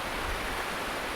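A river rushes steadily in the background, a dense, even wash of broadband water noise with no voices or other events.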